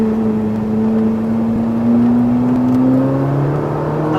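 Ferrari 458 Italia engine accelerating at full throttle on a track, a loud, close, steady rising engine tone climbing in pitch through the whole stretch, with no speech.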